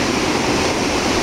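Ocean surf at Sendai Newport beach in Japan, a continuous broad wash of waves with no distinct breaks, steady and fairly loud with no voices.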